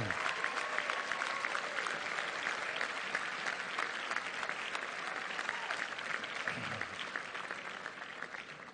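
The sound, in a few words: graduates applauding and cheering for their families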